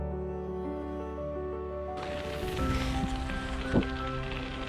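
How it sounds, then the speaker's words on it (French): Studded bicycle tires rolling over ice in winter above the Arctic Circle at -15°C, a steady crunching, gritty hiss that grows fuller partway through, with a single sharper crack near the end. "Ce bruit que vous entendez, c'est les clous présents sur mes pneus."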